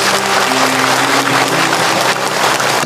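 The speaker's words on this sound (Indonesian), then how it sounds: "Tepuk tangan untuk kita semua." Loud, dense applause from an audience at an Islamic religious lecture, a continuous wash of clapping close up, with a faint low hum underneath.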